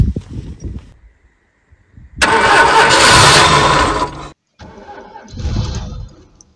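A Citroën CX 2400 Pallas engine cranks briefly, falls quiet, then catches with a loud close burst of running before cutting out and turning over again, all without talk.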